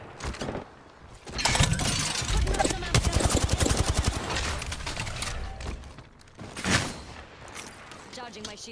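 Rapid gunfire in Apex Legends: a dense burst of fast automatic shots with shattering, cracking impacts, followed by a few louder single blasts, all close and loud with a voice talking over it.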